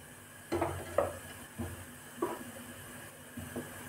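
A metal lid clinks onto a cooking pot holding palak corn sabji in a home kitchen, a few soft, separate taps and rattles spaced about half a second apart, faint over a quiet background hum.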